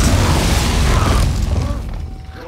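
Explosives detonating in the stealth game Shadow Tactics: Blades of the Shogun, a loud deep boom with a sustained rumbling blast that fades over a couple of seconds, followed by faint game effects.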